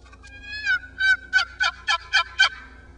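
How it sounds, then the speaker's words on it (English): A wild tom turkey gobbles loudly in a fast, rattling burst of about seven quick pulses, with a short high call just before. "That's a gobble. I hear it."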